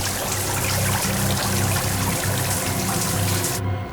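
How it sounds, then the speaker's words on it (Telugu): Water rushes and gushes into a damaged submarine through a hole in the hull, a loud, steady roar over a low mechanical hum that continues without a break and cuts off sharply near the end. "సబ్మరీన్లో హోల్ ఏర్పడింది. నీళ్లు వేగంగా లోపలికి వస్తుంది."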